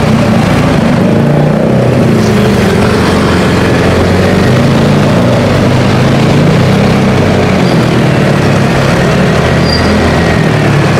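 Steady outdoor traffic with motorbikes going by, a loud continuous low engine rumble and road noise through a budget K66 lavalier wireless microphone, with no talking.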